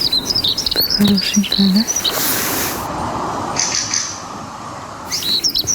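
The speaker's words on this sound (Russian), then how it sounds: "Это пеночка-теньковка." A common chiffchaff gives a few high, thin chirps while held during bird ringing, with a person speaking briefly over the calls and a steady outdoor hiss behind.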